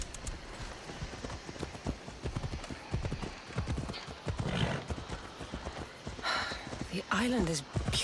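Horse hooves clip-clop steadily under a ridden horse in Assassin's Creed Odyssey, rhythmic and close beneath ongoing talk, with a horse whinny near the end.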